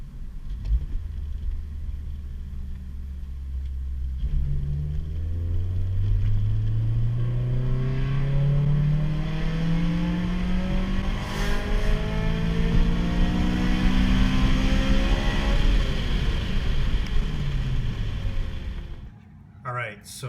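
A Honda Civic Si engine revs at wide open throttle during a pull, its rising tone climbing through the gears with a brief dip at each shift, loud and close, then cutting off near the end.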